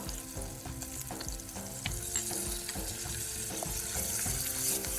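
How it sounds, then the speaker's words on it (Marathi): Curry leaves and urad dal tempering in butter for bread upma, a steady bright sizzle and crackle with occasional stirring clicks from the pan, close and continuous throughout. "फोडणी तडतडली की आपल्याला त्याच्यामध्ये भाज्या मिक्स करायच्या"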